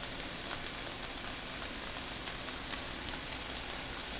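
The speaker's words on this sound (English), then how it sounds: "So we're gonna saute this for a few more minutes," Garlic and fresh vegetables sautéing in a pan for pasta, giving a steady, even sizzle and crackle throughout, fairly faint, with no talking.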